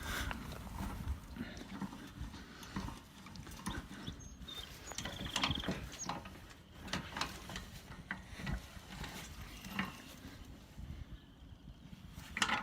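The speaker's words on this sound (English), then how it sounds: "So I'm gonna crank it a few more cranks." A hand crank turns to tilt an outdoor solar panel mount, giving a quiet run of irregular clicking and knocking strokes that repeat throughout with no talking.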